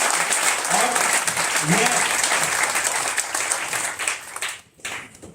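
An audience at a company event applauds loudly in a dense, sustained burst. The clapping thins and fades toward the end while someone speaks over it.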